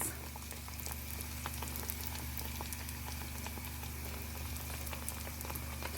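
Sesame pişi dough fries in a narrow pan of hot oil with a constant, dense bubbling sizzle and scattered small pops, close and steady throughout without any talk.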